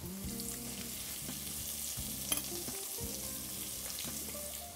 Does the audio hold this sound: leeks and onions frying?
yes